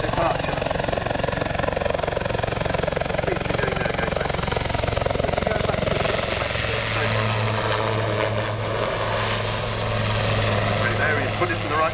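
An Agusta 109 helicopter flying backward and then making an over-the-shoulder departure, its steady rotor and engine drone continuous and fairly loud throughout, with a low hum rising toward the end.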